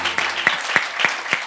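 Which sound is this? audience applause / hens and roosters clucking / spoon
audience applause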